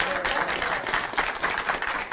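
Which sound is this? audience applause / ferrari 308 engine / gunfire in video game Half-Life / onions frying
audience applause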